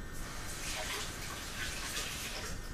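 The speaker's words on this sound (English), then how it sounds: "Let me just rinse this off here." Running tap water rinsing the blade of a Fagor kitchen appliance, a steady close splashing gush that fills the whole short stretch without pause.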